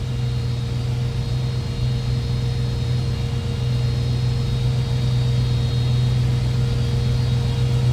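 A 1936 Chevrolet Town Sedan street rod engine runs at a steady idle, a constant low drone with an even hum that holds unchanged throughout with no talk.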